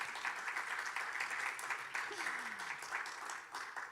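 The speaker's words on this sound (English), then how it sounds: "Yes, you can clap for that." Scattered audience applause rises in a large conference hall, a steady patter of clapping running for several seconds at moderate, slightly distant volume.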